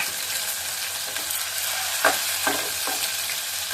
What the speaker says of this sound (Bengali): মেথি ফোড়ন দেব, মেথিটা ফুটো ফুটো কিন্তু অপেক্ষা করবো না, আদাটা হাতে ছেড়ে দিলাম।